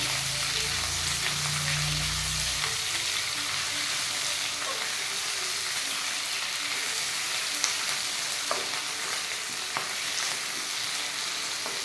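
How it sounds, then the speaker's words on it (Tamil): Potatoes and onions sautéing in oil, a steady broad sizzle that holds throughout, with a low hum at the start and a few faint stirring clicks later on, no voices. "இந்த உருளைக்கிழங்கும் அதில் போட்டு நல்லா வதக்கிடுவோம். ஆனியனும் போட்டுக்கலாம்."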